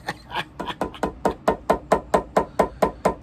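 Steady, evenly spaced hammer blows on a Ferragamo flat being resoled, about four per second, sharp and close, with a faint voice in the background.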